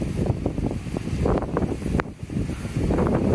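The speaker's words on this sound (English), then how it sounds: "very windy up here, if you couldn't tell." Strong wind buffets a microphone on a high city rooftop, a loud, continuous roar with gusty surges and no talking.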